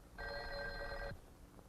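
A telephone bell on step-by-step switching demonstration equipment rings once, a bright sustained metallic trill lasting about a second that stops abruptly, heard up close in a quiet room.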